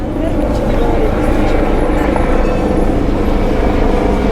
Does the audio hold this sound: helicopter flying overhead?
yes